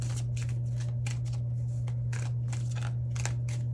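Tarot cards are shuffled by hand in a rapid series of crisp riffling and slapping bursts, close and steady, over a constant low electrical hum, with no talking.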